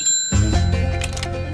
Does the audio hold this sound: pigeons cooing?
no